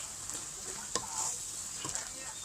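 Egg and seasonings cook in a pan for a northern Thai tomato chili dip, nam prik ong, giving a soft, steady frying sizzle with a few light scrapes of a utensil, faint and close, with no speech.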